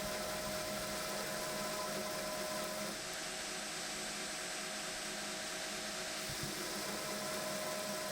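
A knife tang is ground on a belt grinder platen, giving a steady, even whir of abrasive belt noise with a constant hum, close and unbroken for the whole stretch.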